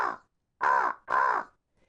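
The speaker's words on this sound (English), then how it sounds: "Just alighting in the top of a tall tree was Blacky the Crow." A crow caws three times, loud and harsh, landing in the top of a tall tree. The first call is brief and the next two are longer and drawn out, with nothing else sounding.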